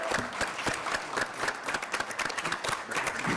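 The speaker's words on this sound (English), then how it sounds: "A round of applause for" People at a Board of Education meeting applaud in a room, a close, uneven patter of individual claps with some crowd noise underneath.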